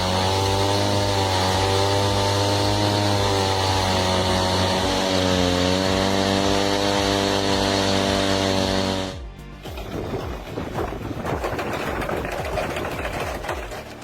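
A firewood processing machine milling wood runs with a steady loud tonal engine drone for several seconds, then breaks into harsh rattling, grinding noise as the cut proceeds.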